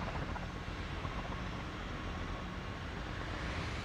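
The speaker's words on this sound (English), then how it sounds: "There's some helicopter noises there" Continuous dense rotor and engine roar of the Pelican from Halo in Microsoft Flight Simulator, steady and loud throughout with no voices.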